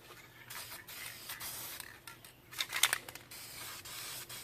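Quiet hissing bursts of spray paint go onto a truck wheel as a heavy coat, with a sharper clatter of the can midway and a low background hum.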